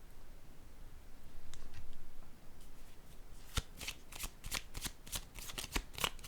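Oracle cards are shuffled and drawn from an intuitive soul oracle deck, giving a run of crisp, close riffling snaps and clicks that quicken toward the end after a softer rustle, with no talk.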